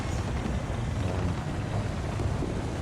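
A Challenger 1 tank engine in the game War Thunder rumbles steadily at constant revs, heavy, dense and loud throughout, with no voices.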